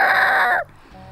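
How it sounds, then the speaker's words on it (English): A rooster crows loudly and close by, one strong drawn-out call that cuts off abruptly partway through. "It was a rooster frantically trying to get her attention."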